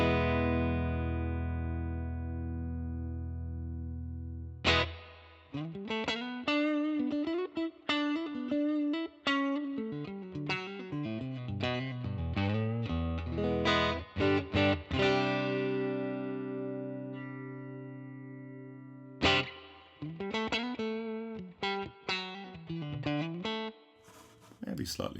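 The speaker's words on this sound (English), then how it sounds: "what about a Fender 63 reverb in the effects loop" Electric guitar through a simulated Fender amp with a Fender '63 spring reverb in the effects loop, playing a loud, sustained clean passage of chords and single notes with audible reverb tails and a brief pause near the end.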